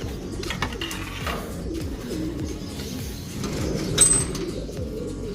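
Racing pigeons coo softly and steadily in a loft, a low, continuous murmur of birds with a slightly louder burst near the end.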